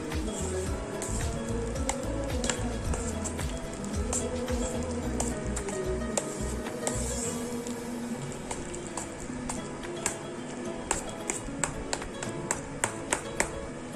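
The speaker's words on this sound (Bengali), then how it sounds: "এরকমভাবে কিন্তু ভালোভাবে করে অনেকক্ষণ ধরে এটাকে নাড়তে হবে, মিক্স করতে থাকবে।" A spoon taps and swishes steadily through a thick homemade handwash mixture in a bowl, producing a long run of quick, regular clicks. The mixing stays close and even throughout, with a faint wet churn beneath.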